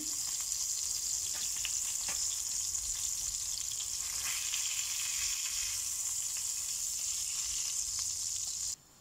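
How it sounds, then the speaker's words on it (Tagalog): Garlic fries in a pan with a steady, bright sizzle, a few soft stirring clicks, and the sound cutting off abruptly near the end. "Ngayon, i-fry muna natin yung ating garlic."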